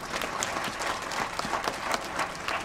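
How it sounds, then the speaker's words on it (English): An audience at a Supreme Court advocates admission ceremony gives dense, sustained applause, many hands clapping at once in a steady roar from start to finish. "I think you need to give him a better clap"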